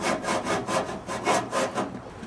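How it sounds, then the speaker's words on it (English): A hacksaw cuts with short quick strokes, a rhythmic rasping back-and-forth of about eight even strokes, close and clear with no talk. "What I did is I first cut with the hacksaw"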